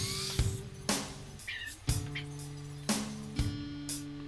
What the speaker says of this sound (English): I'm drilling some pilot holes, countersink it a little bit, and put 3 screws in each side